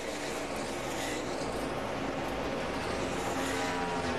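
NASCAR Nationwide Series race cars roaring around Lowe's Motor Speedway in 2008, a dense, steady engine howl filling the track with no break over a few seconds.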